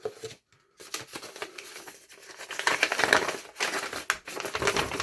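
A sheet of paper from a mailed package is handled and crinkled up close, bursts of rustling and crumpling with brief pauses, no talking.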